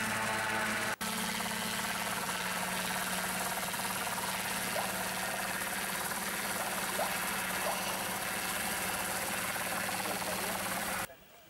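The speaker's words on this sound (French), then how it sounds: "Cette réunion se terminera avec l'arrivée d'un hélicoptère de tourisme." A touring helicopter arriving at a small airfield in Sologne, France, its engine and rotor making a steady, loud droning throb that runs continuously for eleven seconds before cutting off abruptly.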